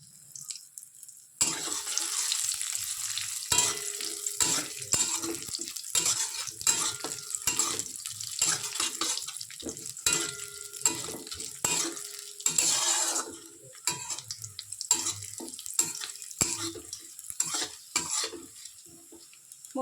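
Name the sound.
frying cashew nuts and raisins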